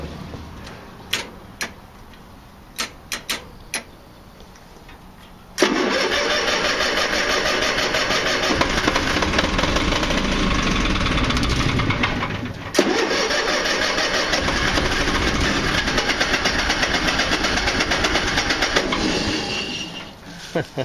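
Portable generator cranked after a few scattered clicks and knocks, then catching and running as a loud, steady mid-pitched engine drone for about fifteen seconds, briefly dipping once before continuing.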